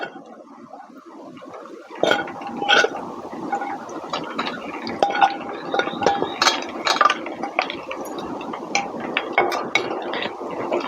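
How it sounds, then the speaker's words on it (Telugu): Chicken coated in ginger garlic paste deep fries in hot oil over a high flame for an Andhra-style chicken pickle, giving a close, steady crackling sizzle with scattered pops that begins a couple of seconds in and continues throughout. "మనకి ఐ ఫ్లేమ్లో పెట్టుకుని ఇలా మనం చికెన్ అనేది డీప్ ఫ్రై చేసుకోవాలి"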